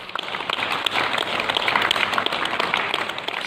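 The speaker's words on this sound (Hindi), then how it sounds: "ये ताली कोरोना के साथ जंग में जीत की है" Hospital staff and onlookers applaud recovered Covid patients at Narayan Medical in Jamuhar, Rohtas, a steady dense clapping that holds throughout at moderate loudness with no break.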